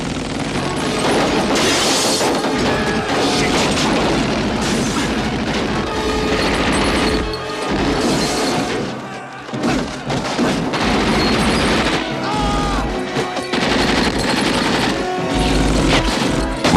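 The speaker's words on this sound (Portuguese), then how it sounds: "a submetralhadora Thompson" Loud bursts of rapid automatic gunfire from a Thompson submachine gun with heavy booming thuds, dense and chaotic, briefly dropping off before resuming.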